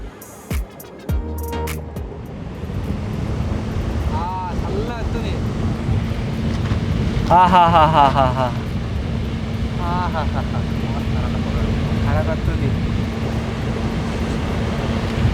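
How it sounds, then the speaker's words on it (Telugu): An air cooler loaded with dry ice is switched on and runs with a steady whooshing drone and a low hum after a few clicks, while someone talks over it in bursts. "మన కూలర్ని అయితే ఆన్ చేస్తున్నా"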